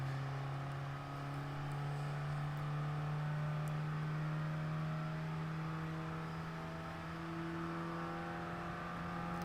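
A racing car engine in Gran Turismo Sport holds a steady, droning whine at high revs, with only slight shifts in pitch, heard alone at moderate volume.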